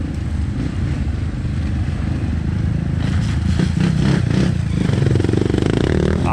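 Trail motorcycles rev and accelerate on a dirt trail in Barros Cassal, RS, engines roaring loudly and close, with clattering and a rising whine in the second half.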